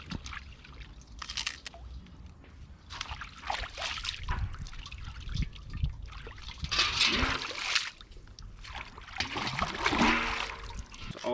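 Water trickles and splashes in a blackwater creek at a nature resort in Guyana, a close, uneven run of gurgles and sloshes that grows busier toward the end.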